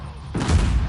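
A grenade blast in the video game Uncharted: The Lost Legacy, a sudden loud boom with a low rumbling tail that breaks a quiet background about a third of the way in.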